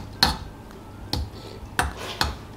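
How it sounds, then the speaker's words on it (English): A metal utensil mixing spicy instant noodles clinks against a bowl four times at an uneven pace, close and fairly crisp. "Now I have to mix it so it can be spicy."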